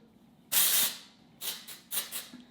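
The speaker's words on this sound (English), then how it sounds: "I'm gonna use the Orbeez Texturizing spray to give it some texture." Orbeez texturizing hair spray sprayed onto brushed-out hair, a long hissing burst followed by two or three shorter spritzes, close and fairly loud.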